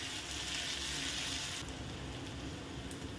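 Half a spoon of turmeric, Kashmiri red chilli powder and onion-garlic masala sizzle and sauté in a pan for dal khichdi, a steady, moderately quiet hiss that softens slightly partway through, with no talking.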